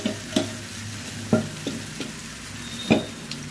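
Marinated prawns fry in oil in a pot with a low steady sizzle, broken by a few scattered clinks and scraping stirs, fairly quiet and with no voices.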